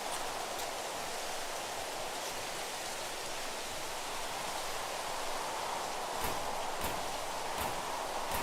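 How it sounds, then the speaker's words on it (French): Heavy rain pours down steadily in a dense, even hiss that fills the whole stretch, with a few sharper gusts or spatters near the end and no voices. "tout à coup, la pluie commence à tomber très très fort"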